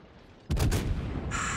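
Defensive anti-aircraft fire from a warship in World of Warships, a Des Moines cruiser, bursts in abruptly after a quiet moment with loud rapid booming reports followed by a sustained high whine.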